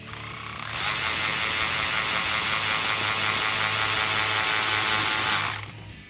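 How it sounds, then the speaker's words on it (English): A ratchet with an 8 mm socket tightens a band clamp on a cold air intake for a 2015-2020 Ford F150 5.0L, giving a steady, close, rapid clicking whir that runs for about five seconds and then stops. "we'll go ahead and grab our 8 millimeter socket and get that band clamp"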